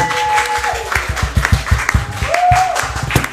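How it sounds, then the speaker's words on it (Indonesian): A small group of people claps hands in an uneven burst of sharp, close claps, with voices and brief vocal tones underneath. "Tepuk tangan mana? Tepuk tangan."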